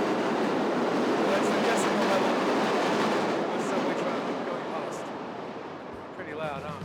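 New York City subway train roaring through a tunnel, a loud, dense rushing rattle that slowly eases, with faint squeals near the end.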